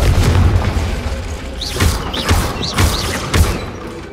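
Confringo fire spell in the Hogwarts Legacy video game, heard as a run of deep booming blasts and thuds over a dense rumbling battle bed, loud and close, with whooshing magical effects between hits.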